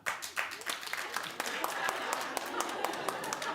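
Sparse clapping from a handful of audience members in a television studio, separate claps scattered and uneven, with a voice talking over them.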